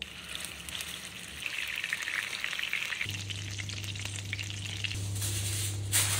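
Stuffed chicken meatballs sizzling steadily in hot olive oil, a continuous crackling fry close by, with a low hum joining partway through and no talking.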